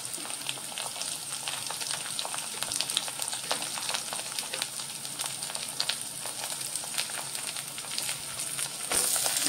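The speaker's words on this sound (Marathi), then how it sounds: "आता हा कांदा आपल्याला खरपूस भाजून घ्यायचा आहे." Chopped onion sizzling in a hot pan for an Indian vegetable dish, a steady close crackle and hiss with a louder burst near the end as tomatoes go in.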